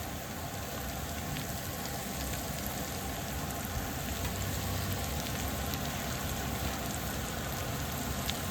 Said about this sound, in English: I'll just add the carrots now, because carrots take a little while to cook.